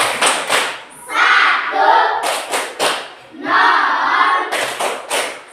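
Hands clap in a group count of ten during a children's lesson, sharp bursts alternating with voices speaking between them, close and fairly loud.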